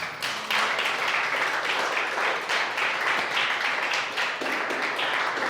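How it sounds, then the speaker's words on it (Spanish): A church congregation applauds God during a Spanish-language sermon, a steady wash of many hands clapping at even loudness throughout, with no talking over it. "Dale un aplauso a Dios"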